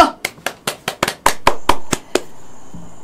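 A crowd claps hands in about ten sharp, evenly spaced strokes, loud and close, ending in a short ring-out.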